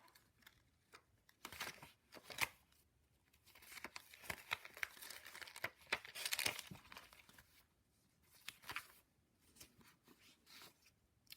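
Grunge paper for Halloween craft journals is handled and crinkled up close, with irregular bursts of crisp rustling and crackling separated by short quiet pauses.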